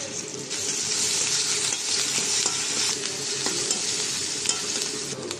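Garlic paste and ginger paste frying with lightly browned onions in a pan, a dense continuous sizzle with occasional scraping stirs, close and loud.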